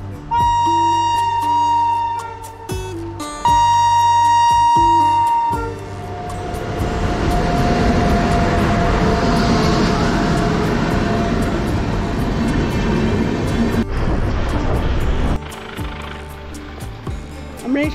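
A train rolls past a level crossing at Khunia railgate in the Dooars, loud and close: horn blasts and tonal signals at first, then a long steady rumble and clatter of wagons passing, followed by tones again.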